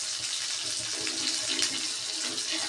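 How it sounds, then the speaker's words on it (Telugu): Water and tamarind juice pour into a pot of rasam, giving a steady, soft splashing hiss that runs continuously and quietly without talk. "మీకు తగినంత వాటర్ పులుపు తీసుకుని పోసుకోండి"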